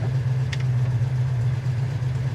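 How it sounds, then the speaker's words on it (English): A 1974 Plymouth 'Cuda engine idling with a steady low rumble, constant and close, with a brief faint click partway through. "Engine idles down a little bit."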